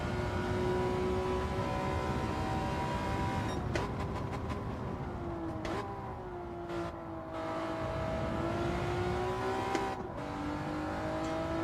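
In a racing video game time trial, a car engine howls at a steady high pitch, dipping and climbing again with each gear change and short lift of the throttle.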